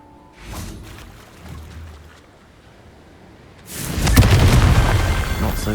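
A Confringo fire spell in Hogwarts Legacy erupts in a loud, sustained burst of explosive roar after a quieter, crackling lead-in during a goblin battle.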